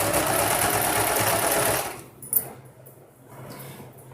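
A sewing machine runs fast stitching cotton fabric for a long maxi gown, a loud steady whir for about two seconds that stops, followed by faint handling noises.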